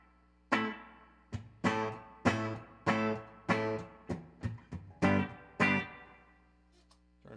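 Guitar chords strummed one by one in a steady rhythm, each ringing out with a spacious reverb tail that lingers into silence.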